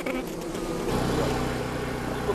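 A swarm of honeybees buzzing steadily around a honeycomb frame pulled from a hive, a dense continuous drone that swells slightly partway through and stays loud and close throughout.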